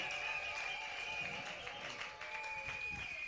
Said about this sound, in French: Acclamons Jésus le roi des rois